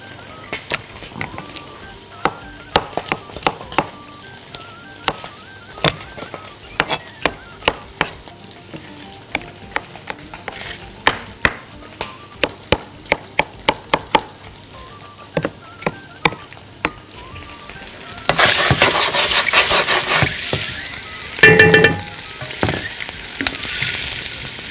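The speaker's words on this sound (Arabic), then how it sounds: "نقلب عقبال ما البصل يدبل، ممكن نفرم الثوم." Onions sizzling and frying in a pan, with steady crackle and frequent sharp knocks of stirring or chopping, close and fairly loud; the sizzle swells near the end.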